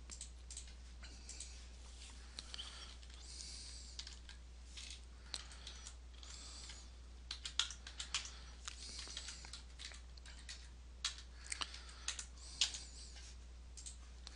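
Quiet, steady typing on a computer keyboard while a web registration form is filled in, with rapid irregular key clicks and occasional louder keystrokes over a low electrical hum.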